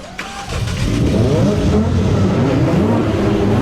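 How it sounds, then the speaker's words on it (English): An unlimited-class time attack race car engine cranks and fires, then settles into a loud, steady revving roar close by with no talk over it. "Drivers, start your engine."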